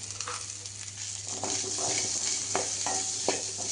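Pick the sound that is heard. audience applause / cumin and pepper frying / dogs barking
cumin and pepper frying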